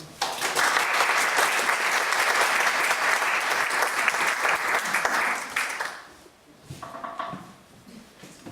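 An audience applauds to welcome a speaker at a preservation lecture, with steady dense clapping for about six seconds that then fades, followed by a few scattered sounds.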